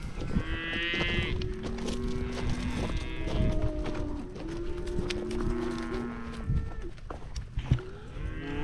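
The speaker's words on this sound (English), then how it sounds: "So I'm sorting bulls off here." Mashona bulls lowing and mooing repeatedly in an open pasture, deep drawn-out calls overlapping one another, fairly close and loud throughout, with no talking.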